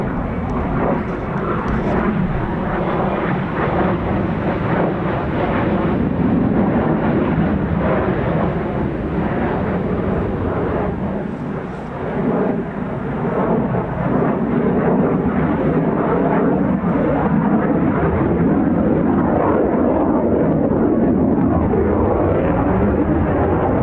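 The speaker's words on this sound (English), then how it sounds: "Some real strange wake turbulence noise." A continuous roaring rush of jet noise and wake turbulence from an F-35B stealth fighter, broadband and sustained, with a slight dip midway before swelling again, loud and unbroken.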